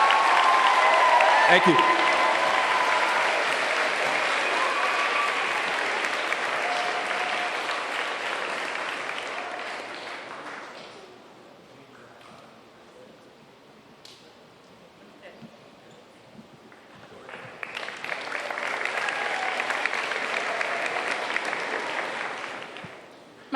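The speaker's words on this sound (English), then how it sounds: "Let's give them all a hand." Applause at an 8th grade ceremony, loud clapping from an audience that fades to quiet in the middle, where a voice speaks briefly, then swells again near the end.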